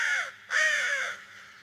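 A crow gives two harsh, nasal caws close by, the second longer and louder, alone with no talk, in a fox and crow story.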